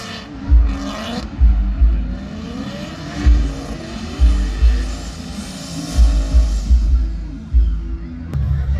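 Car doing burnouts at the Powerfest event, engine revving hard in repeated heavy pulses roughly every second, loud and close, with a rising gritty tire-spinning roar between revs.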